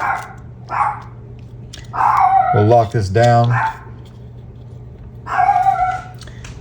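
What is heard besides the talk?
small dog barking in the background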